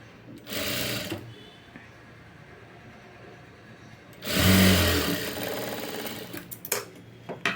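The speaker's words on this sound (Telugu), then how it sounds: "ఇలా నీట్గా ఫోల్డ్ చేసుకుని స్టిచ్ చేసుకుంటూ వచ్చేయాలి." A sewing machine stitches the front part of a garment in two short close runs, one brief burst early and a longer whir later, with quiet handling between.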